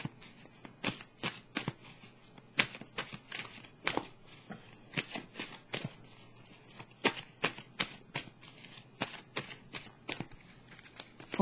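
Oracle cards being shuffled and drawn, a steady run of crisp riffling flicks and soft slaps close by, alone with no talking.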